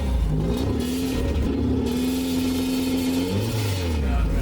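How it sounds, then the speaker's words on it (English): A rebuilt Porsche 944 engine runs inside the car, a steady mid-pitched drone that rises and falls as it is revved, with a person talking over it. "Finished my 944 engine, that's now in the car and running."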